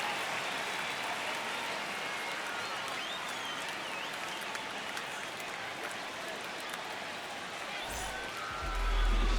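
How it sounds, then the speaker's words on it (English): A stadium crowd roars continuously in the MLB The Show 26 baseball video game at the start of a season. It is a steady, dense wash of cheering and clapping that lasts the whole stretch without letting up. "The crowd is amped up, ready to get this season underway"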